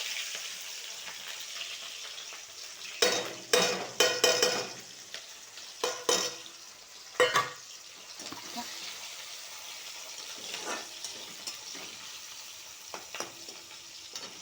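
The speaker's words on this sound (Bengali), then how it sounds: "এবারে এই কুচনো মশলাটা পুরোটাই দিয়ে দিলাম।" Chopped spice paste hits hot oil already seasoned with cumin and bay leaf, giving a burst of loud sizzling and stirring scrapes that settles into a quieter, steady fry, close by.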